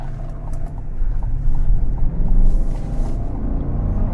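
A 2025 Chevrolet Tahoe High Country's 420-horsepower V8 accelerates on a road, heard from inside the cabin as a deep, swelling engine rumble mixed with road and wind noise.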